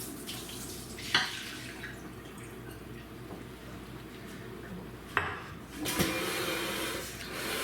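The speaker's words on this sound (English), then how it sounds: "we got the potatoes that have been soaking for 30 minutes. And we're going to drain these potatoes" Soaked potatoes are drained in a kitchen, with water running and splashing steadily while a couple of sharp clanks of a pot or colander stand out, close by and without speech.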